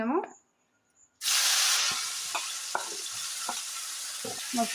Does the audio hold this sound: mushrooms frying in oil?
yes